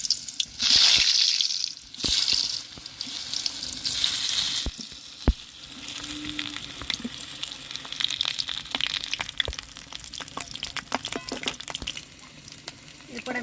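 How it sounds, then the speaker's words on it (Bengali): Pieces made from besan and egg fry in hot mustard oil in a kadai, with a strong sizzle full of sharp pops and crackles that surge loudest early on, then settle into a bubbling hiss. "তেল গরম হয়ে গিয়েছে এরপর আমি এগুলোকে তেলে ভেজে নেব"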